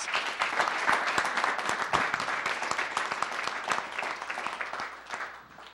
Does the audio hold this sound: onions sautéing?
no